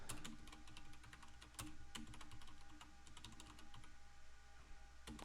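Rapid keystrokes clatter on a computer keyboard during a homelab backup scripting session, close and fairly quiet, with irregular bursts and occasional louder key hits over a steady background hum.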